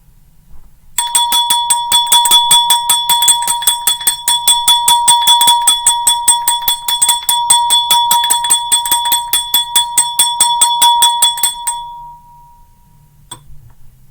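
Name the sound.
bell rung for luck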